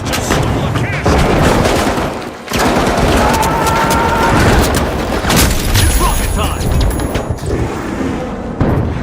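Rocket blasts and heavy gunfire in The Finals, a dense, loud barrage of booms and rapid shots layered over constant game noise, with a brief lull near the start before the explosions resume.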